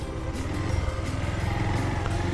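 A motorcycle rides slowly along an unpaved dirt track toward a gurdwara in rural Rajasthan, its engine a steady close drone with a rough, pulsing texture and no talk over it.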